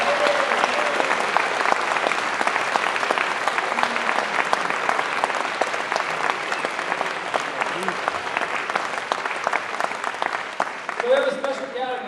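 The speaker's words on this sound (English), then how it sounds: "Let's give them all a big round of applause once again." Audience at a spring convocation applauds the custodians and trades staff, a dense steady clapping that holds loud for the whole stretch, with a few voices and cheers rising near the end.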